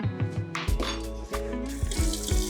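A sink tap runs steadily as someone washes their hands nearby, the flowing water broken by soft splashes and shifting hand movements over about two and a half seconds.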